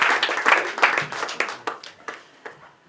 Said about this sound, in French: Elle mérite quelques applaudissements quand même